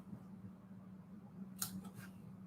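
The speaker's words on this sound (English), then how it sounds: "I need my little scissors to cut this out." Small scissors snipping paper for a junk journal, a couple of quick crisp cuts near the end over a quiet steady hum.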